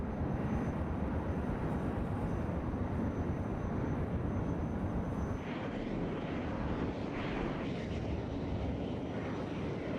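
A Valkyrie aircraft in the video game Planetside 2 flies with a steady, dense engine roar and rushing wind, loud and continuous, easing slightly partway through while the drone carries on.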